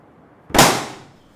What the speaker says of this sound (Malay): Belon meletup.